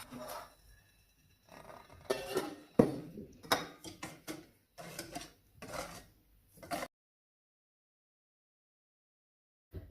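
A whisk stirs an egg-and-sugar mixture in a saucepan set over a water bath, giving bursts of metallic clinking and scraping against the pan that stop abruptly, followed by near silence.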